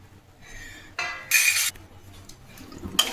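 Laddu mixture with raisins and roasted seeds being stirred in a pan: intermittent metallic scraping and clinks of a spoon against the pan, with a few louder sharp knocks, fairly close and without talk.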